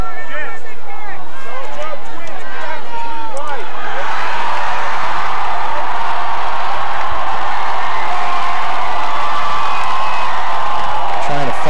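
A student crowd cheers at a high school football game between Bonneville and Ridgeline, a broad, steady roar of voices swelling after a few seconds and holding loud and distant, with an announcer talking over it.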